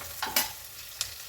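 Green peas drop into hot tempering oil for an aloo matar curry, with a few quick scraping stirs and a soft sizzle, brief and close.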